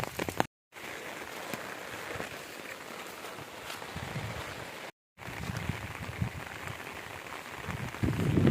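Rain falls steadily over a green village as a soft, even hiss, broken by two brief silent gaps and swelling slightly near the end.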